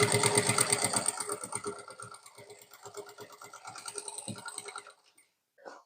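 An electric sewing machine runs in quick rattling bursts while stitching an elastic belt onto a ready-to-wear saree, pausing and restarting close by before stopping near the end.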